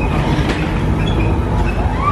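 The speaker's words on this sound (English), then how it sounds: "we'll head on to the ghost train now" A fairground ghost train ride at a Hartlepool marina fun fair rumbles loudly and steadily along its rails, a close, continuous rolling clatter with no talk over it.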